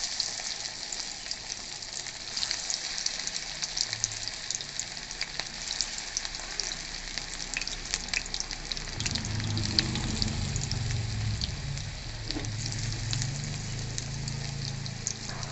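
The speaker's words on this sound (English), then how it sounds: "Now into the hot oil add the pakora batter as per your desired size." Banana flower pakora batter frying in hot oil makes a continuous bubbling sizzle, and a deeper gurgling layer swells as more batter drops in.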